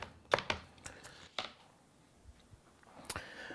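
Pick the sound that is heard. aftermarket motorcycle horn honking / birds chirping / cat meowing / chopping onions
chopping onions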